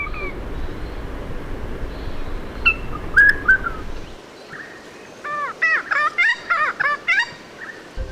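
A person whistles an imitation of the regent honeyeater's mating song, a rare Australian bird call. The clip opens with some noise, and then a series of clear rising and falling whistled phrases follows in quick succession, close and fairly loud.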